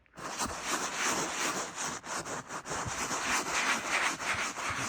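Steady close scrubbing of a brush worked back and forth into Subaru car interior upholstery to agitate cleaner into a stain, a continuous rough rubbing with brief dips in rhythm.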